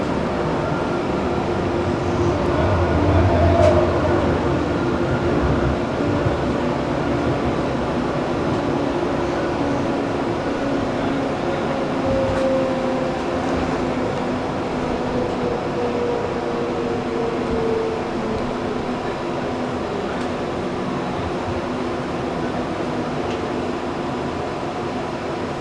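Inside a moving tram: a continuous low rumble with squeals and rattles rising and fading, no one talking.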